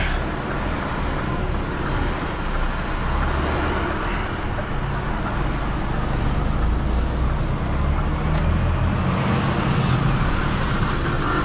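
Heavy recovery truck towing a loaded dustcart through London streets, a steady low diesel drone and road rumble as it pulls gently away, with traffic noise around and no clear voices.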